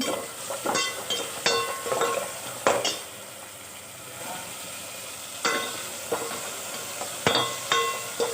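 Tomato pieces sauté in oil under a soft continuous sizzle, broken by sharp stirring clatters and scrapes against the pan that come in clusters with quieter stretches between them; no one speaks.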